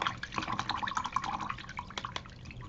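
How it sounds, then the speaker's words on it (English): A paintbrush dips and swishes in a jar of water, making soft, close, irregular dripping and splashing sounds with no talk. "you'll hear me on the videos when I dip into the water"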